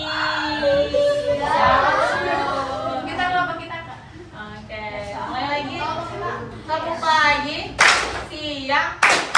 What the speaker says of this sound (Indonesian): langsung tepuk tangan aja